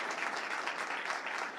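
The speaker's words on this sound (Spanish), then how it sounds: "Un aplauso." Audience applause at an AgTech demo day pitch event, a steady stretch of many hands clapping at moderate loudness, heard alone without talk over it.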